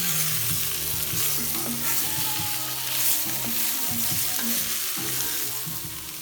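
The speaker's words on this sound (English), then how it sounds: "add a tablespoon of tomato paste and stir it in and let it all cook" Vegetables, flour and tomato paste sizzle and fry in a pot for braised short ribs, a steady close crackle with a spoon repeatedly scraping and stirring through it, no talk.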